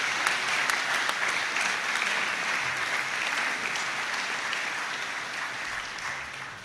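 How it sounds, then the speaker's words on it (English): Graduates at a graduation ceremony applaud their supporters in a full, steady round of crowd clapping that stays loud and even throughout, easing slightly at the end. "I now invite you, our new graduates, to perhaps give a round of applause to those who have supported you"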